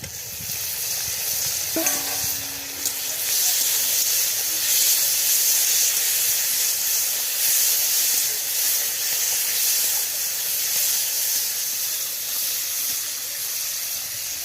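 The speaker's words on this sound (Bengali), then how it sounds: "এবার ওই পেঁয়াজের উপরেই আমি টমেটোটা দিয়ে দিচ্ছি।" Tomato dropped onto frying onions in a hot pan for a mustard tuna fish curry, giving a loud, steady hiss of sizzling that holds evenly throughout, with a brief clatter near the start.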